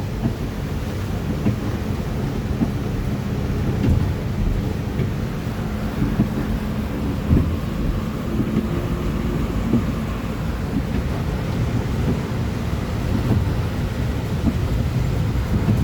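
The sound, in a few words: heavy rain and wind storm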